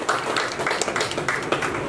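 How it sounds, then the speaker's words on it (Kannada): Indoor audience clapping at a Rotary Club free eye operation camp gathering, a short burst of dense, loud, steady applause from many hands. "ಹೃದಯವಂತಿಕೆಯಿಂದ ಬದುಕ್ತಾ ಇರೋರು ಚಪ್ಪಾಳೆ ಮೂಲಕ ತಮ್ಮ ಅಭಿನಂದನೆ ಸಲ್ಲಿಸಬೇಕಾಗಿ ನಾನು ಕೋರ್ತೇನೆ"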